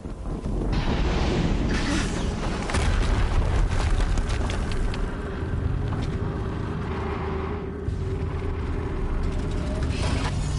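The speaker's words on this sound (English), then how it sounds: "Another explosion." A heavy explosion in the video game Horizon Zero Dawn rumbles loudly with a deep, sustained roar and crackling debris, filling the whole stretch with dense low-end noise.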